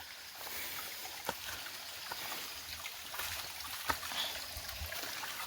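Water trickles and flows along a rocky mountain trail on Parvathamalai, a faint, steady babble outdoors with occasional soft knocks and footfalls.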